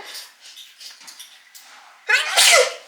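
A single sudden, loud sneeze from a person close by, ending a stretch of quiet, indistinct background sound; recorded during a winter vlog in Korea.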